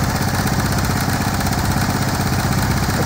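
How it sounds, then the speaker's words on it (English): A 24-volt gas generator engine runs steadily at a constant idle-like drone, loud and close, with an even mechanical pulse and no voices. "downturn on the exhaust pipe coming out of the 24-volt gas generator"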